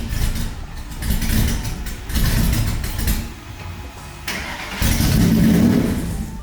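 A 1931 Ford Model A engine, rebuilt with F1-flavored modifications, cranks and catches, then runs with rough, surging revs and a steady low rumble that swells louder toward the end.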